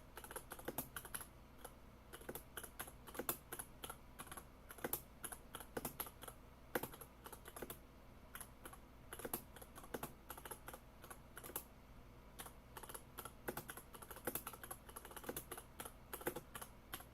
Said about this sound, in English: Y'all like the sound of my keyboard? The clickety clacking.